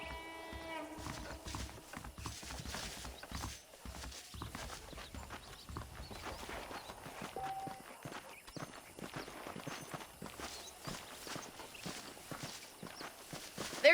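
Horse hooves clip-clop at a steady walking pace in the video game Red Dead Redemption, a continuous rhythmic plodding set against a busy game soundscape.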